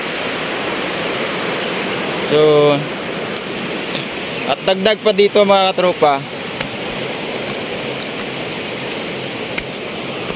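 Heavy, steady roar of a flooded river rushing past, with someone talking over it for a few seconds.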